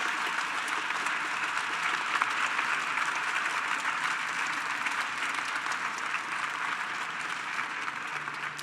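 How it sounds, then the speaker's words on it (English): Sustained audience applause at an MIT innovation challenge celebration, a dense, steady wash of many hands clapping at even loudness throughout, with no voices standing out. "if we could please have a round of applause for all the aforementioned people and organizations"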